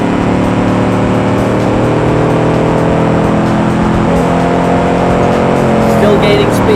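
A car accelerates in the driving game Automation, a land yacht build whose engine note rises steadily as it gains speed, a loud continuous drone with climbing harmonics filling the whole stretch.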